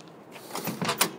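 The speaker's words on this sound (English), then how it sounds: "Door operates awesome." A 1962 Chevrolet Biscayne door operating: a brief close mechanical rattle and latch clunk lasting about a second, with no talking.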